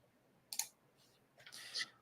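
Two quick computer mouse clicks, close and soft, a pair at the start and another about a second later, with near silence between them.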